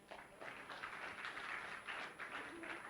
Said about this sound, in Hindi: तालियां गगन के लिए भी।